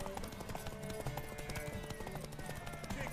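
Horse hooves clip-clop steadily in The Witcher 3: Wild Hunt, a continuous rhythmic trot under game music and ambient sound at moderate level.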